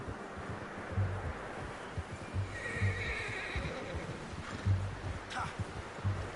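A horse in Red Dead Redemption 2 snorts and whinnies over soft clip-clop hooves and rustling, fairly quiet and close, with faint game ambience underneath.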